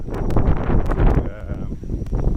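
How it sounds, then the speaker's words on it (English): Wind buffets a microphone on a Tokyo street in Sakura-shinmachi, a steady, rumbling low roar with gusty surges that swell and dip throughout the short stretch. "it's really windy"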